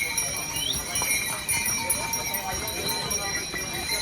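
Horses' hooves clip-clop along a mountain trekking path on the way to Kedarnath, an irregular stream of clopping steps under people talking, with faint ambient noise.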